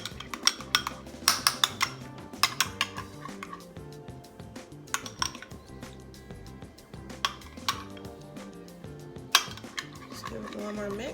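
Parmesan sauce is spread and mixed over tilapia fillets on a baking sheet with a utensil, giving irregular clinks and scrapes against dish and pan, fairly close and moderately quiet.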